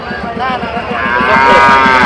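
A crossbred cow moos at a large cattle market in Chandaikona, Sirajganj, one long rising bellow swelling louder near the end over busy crowd noise and a steady pulsing hum.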